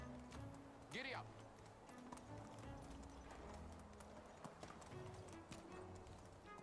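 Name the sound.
horse hooves clip-clopping in the video game Medieval Dynasty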